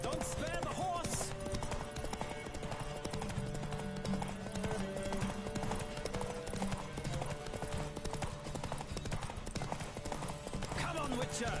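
Horse hooves gallop in a steady clip-clop during a race in The Witcher video game, with occasional whinnies, game music and voices running underneath throughout.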